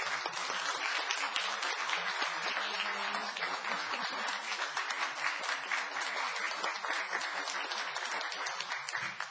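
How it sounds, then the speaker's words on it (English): A council meeting audience applauds continuously for about nine seconds, a dense, even wash of many hands clapping in a hall, with a faint murmur of voices mixed in. "Applause, please."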